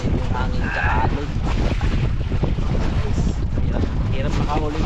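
Strong wind buffets the microphone aboard a small fishing boat at sea, with a steady roar of wind and waves and someone speaking over it in Filipino.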